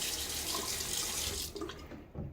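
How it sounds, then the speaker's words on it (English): Tap water runs steadily into a sink as water is splashed onto the face before a shave, a continuous close hiss that breaks up near the end with a few splashes. "a little water on my face"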